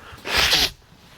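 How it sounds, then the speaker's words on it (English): A single short, forceful nose blow by a person, a breathy burst lasting about half a second, close and fairly loud, with quiet background before and after. "Oh, I'm just blowing my nose."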